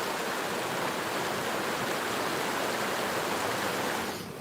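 A man-made waterfall pours into a deep pool at its base, used as a fishing spot. It makes a steady, loud, close rushing roar with no pauses and no voices.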